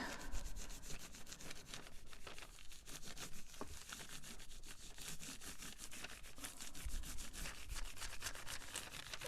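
Paint being rubbed onto a gel printing plate by hand, a quiet, continuous scuffing and brushing texture that runs steadily throughout with no speech.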